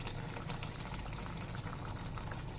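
A cup of tea liquor is poured into mutton cooking for Golbari-style kasha, giving a steady, close liquid pour and bubbling that continue evenly through the short stretch with no talking.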